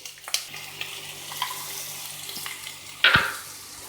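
Carrots and capsicum are stir-fried over a high flame for hakka noodles: a soft, ongoing sizzle with a few light scrapes and one sharper clatter of utensil against pan near the end.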